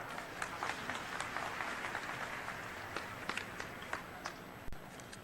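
A crowd at a political rally for the chief minister in Ambikapur claps loudly and steadily, a dense wash of applause with sharper individual claps standing out, without speech.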